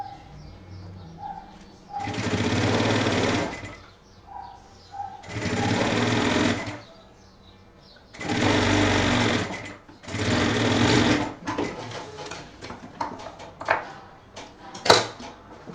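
Sewing machine stitching a seam on a backpack, four loud close bursts of rapid mechanical whirring separated by pauses, with pigeons cooing faintly in the gaps.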